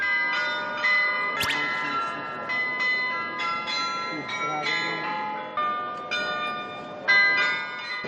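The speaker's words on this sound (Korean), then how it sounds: "시계탑 안에 설치된 글로켄슈필이 매일 시간 맞춰 인형극을 펼칩니다." The glockenspiel in the Munich town hall clock tower plays a chiming tune of bright, ringing bell notes in an irregular sequence, heard from the square below with a voice talking over it.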